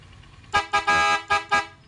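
A car horn without an interrupter honks in five short, loud blasts, with the middle one held a little longer, sounding close by and standing alone.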